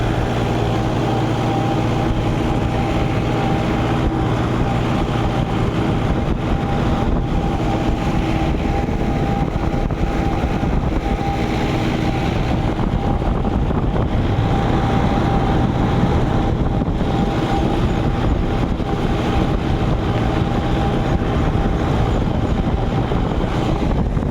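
A heavy tractor engine drones steadily under load while plowing a field, a constant low mechanical rumble with a faint hum and no pauses.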